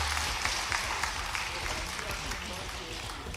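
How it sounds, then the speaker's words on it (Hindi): Audience at a public event with the Madhya Pradesh Chief Minister Mohan Yadav, clapping in a dense, steady burst of applause for a few seconds, heard at some distance and slightly muffled. "ताली भी बजे तो ऐसी बजे"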